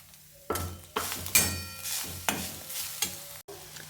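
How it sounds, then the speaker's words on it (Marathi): A spoon scrapes and stirs grated fresh coconut and jaggery modak filling in a pan, giving repeated close scraping strokes roughly every half second with a light sizzle underneath and no talking. "आता आपण टाकूया किसलेलं ओलं खोबरं. चांगलं हलवून घेऊया."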